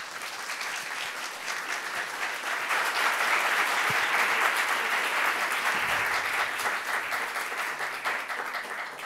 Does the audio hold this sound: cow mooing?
no